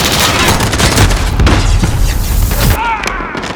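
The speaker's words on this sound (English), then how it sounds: "Throwing grenade!" Constant gunfire and a heavy boom from a grenade explosion in the Call of Duty: Modern Warfare video game, loud and dense throughout with overlapping blasts and shots, in-game voices faintly audible under the battle noise.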